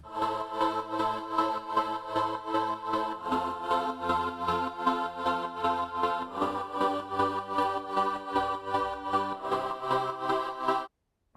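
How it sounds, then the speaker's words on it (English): A layered synth pad patch built in Omnisphere for a new school trance track plays alone, sustained chords shifting every few seconds with a steady rhythmic pulse, full and loud throughout before stopping abruptly at the end. "I added another actually layer of the pads, which sounds like this on its own."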